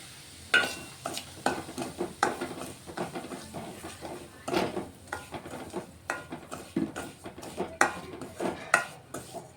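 Semolina (rava) being dry-fried and stirred in a pan, with repeated scraping strokes and light sizzling in an irregular rhythm, close and moderately loud, with no talking.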